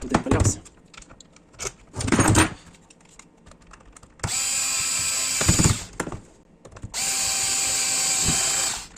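A GTM SD3.6/5 screwdriver with a ratchet, turned back and forth: short bursts of clicking, then two longer, steady mechanical runs, close and fairly loud, with no talking.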